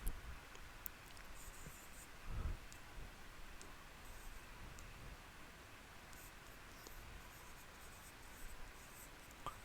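Pen scratching across paper during a plant nutrition lesson, a soft, steady rustle of writing with faint ticks, heard alone in a quiet room.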